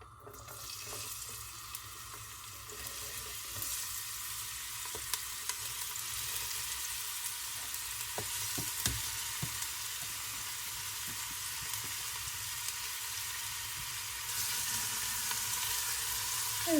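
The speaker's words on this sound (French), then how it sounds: "j'attends que l'huile chauffe et je vais ajouter les oignons" Oil heats in a pan for Polish bigos, a quiet steady sizzling hiss with scattered faint clicks and ticks, growing slightly louder near the end as onions go into the hot oil.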